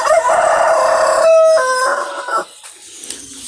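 A rooster in a chicken coop crows one loud, drawn-out call near the microphone, then trails off into quieter rustling with no talk.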